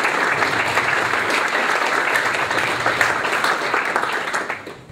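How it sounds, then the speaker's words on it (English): An indoor crowd at an awards night breaks into sustained, dense applause, steady and loud throughout with no talk over it. "I'd like to give a round of applause for Bernard as well."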